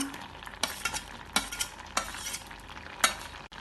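Cut mango being stirred into a simmering drumstick and jackfruit seed curry in a pot: a handful of sharp spoon scrapes and clacks at an uneven pace over a soft bubbling bed, close by and with no voices.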